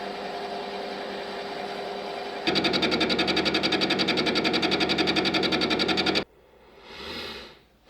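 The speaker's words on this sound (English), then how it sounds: "The quick fix for this is machining the fixture in place," A mill machines a fixture in place: a steady mechanical hum shifts into a loud, rapid chattering cut for several seconds, then stops abruptly, leaving a quiet whir that swells briefly.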